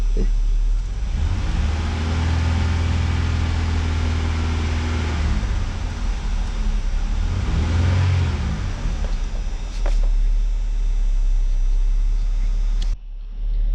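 A car engine idling with a steady low rumble, rising in two revving swells around the middle, loud and close, with a brief dip near the end; a voice talks over it.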